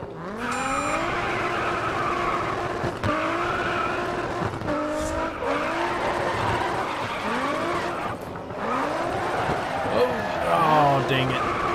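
Race car drifting around a tight circuit in GRID Autosport, engine revs rising and falling repeatedly with squealing tires, loud and close, while someone talks over it.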